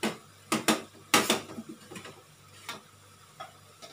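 A spatula breaking up salted egg in a pan while cooking kangkong with spice paste: sharp scraping clacks come in quick pairs against the metal, then sparser softer taps, fairly close, with no voices.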